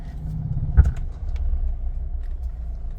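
Low rumble inside a car pulling away slowly during beginner driving practice, with a soft bump near the start and a steady engine drone, close and moderate, no talk.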